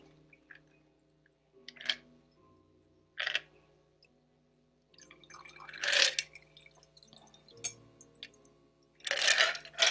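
A Halloween cocktail poured into an upturned smoke-filled glass, with scattered drips, splashes and glassy clinks and taps, a louder pouring burst midway and another near the end, close and fairly quiet without talk.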